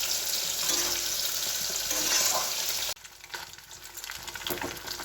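Fish frying in hot oil in a home kitchen, a steady loud sizzle with stirring that drops abruptly near three seconds, then continues quieter with crackles.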